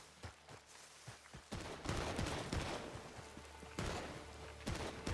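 Repeating shotguns fire in the online Wild West game Red Dead Online, with quick bursts of sharp blasts clustered together and a brief lull between volleys, fairly close and loud.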